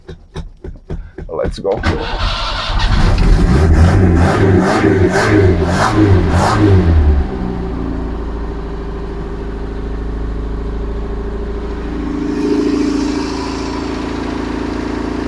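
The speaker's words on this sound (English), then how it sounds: "Now it will start again and probably shut down again because again there will be no gas." An old Balkan muscle car from a scrapyard rescue cranks over several times, catches and revs loudly, then settles into a steady rough idle up close; a voice speaks briefly over it.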